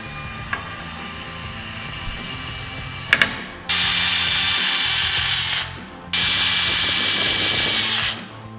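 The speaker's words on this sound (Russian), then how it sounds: "закручивать саморезы." Power drill driving self-tapping screws into a wooden beam while hydroponic equipment is installed: a couple of sharp clicks, then two loud close bursts of steady high whirring, each about two seconds long.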